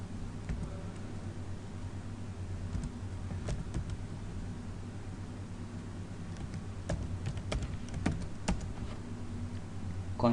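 A computer keyboard being typed on to enter a configuration command, heard as soft, irregular key clicks, faint and close, over a steady low hum of background noise.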